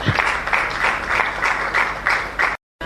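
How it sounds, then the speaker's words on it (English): Audience applause welcoming a professor to the stage at a science bar camp in Ghana, a steady burst of clapping that pulses in waves for over two seconds before cutting off abruptly. "with a round of applause, welcome Professor Andam to the stage"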